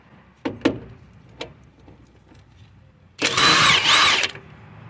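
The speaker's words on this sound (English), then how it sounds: "I'm gonna try to do it with the impact gun" Pneumatic impact gun loosening a 17mm tie rod nut on a Honda CR-V, one loud sustained rattling burst of about a second following a few sharp clicks and knocks.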